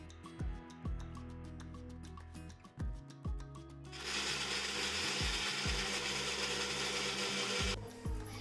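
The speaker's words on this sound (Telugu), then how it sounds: "ఎండు కొబ్బరి, అల్లము, కొత్తిమీర, ఎల్లిపాయలు అయితే వేసి మిక్సీకి అయితే పడతాను." A mixer grinder blends dry coconut, ginger, garlic and coriander: a few dull knocks and clatters first, then a loud, steady whirring grind for about four seconds that stops abruptly near the end.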